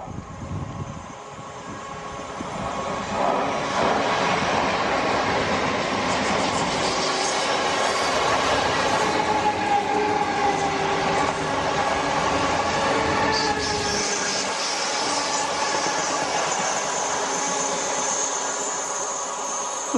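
A train rolls past on a British main line near Wolverton, a loud, sustained rumble of wheels clattering over rail joints with metallic squeals rising and fading for the whole stretch, no voices over it.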